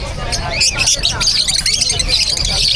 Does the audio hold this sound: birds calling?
yes